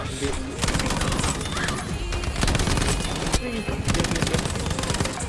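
Dense rapid gunfire in Battlefield V, sustained loud bursts of automatic weapons with short pauses between volleys, a busy close battlefield mix.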